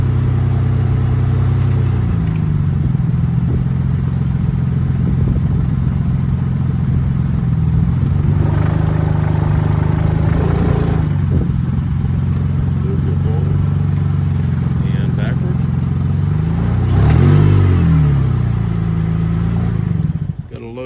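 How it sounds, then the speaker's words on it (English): A Chevrolet Malibu's engine with an exhaust issue idles and revs with a rough, rattly exhaust note, close by at an auction, rising in a few bursts before cutting off. "the sounds like it has a bit of an exhaust issue"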